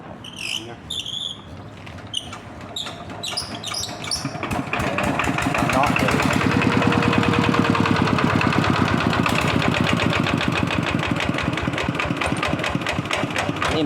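Repaired engine started and settling into a steady idle, a loud rapid even chugging that continues after a few faint clicks and knocks at the start.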